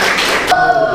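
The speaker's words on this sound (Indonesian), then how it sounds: "Tepuk tangan untuk kelompok 5." Classroom applause for a student group after a presentation, a short burst of clapping that fills the whole second at a steady loud level.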